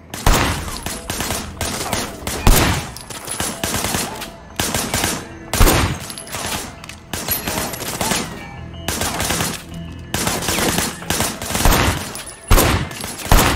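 Gunfire in Sleeping Dogs, loud close bursts of rapid automatic shots in several long strings, separated by brief pauses and heavy impacts.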